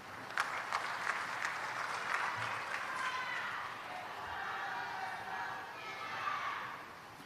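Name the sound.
audience applause at a conference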